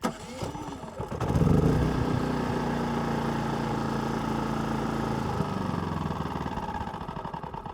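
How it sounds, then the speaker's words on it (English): A Hyundai HY6250SEi inverter generator cranks on its electric start, catches and settles into a steady, loud, close running drone with no talk. "And that's how you start your HY6250SEi generator."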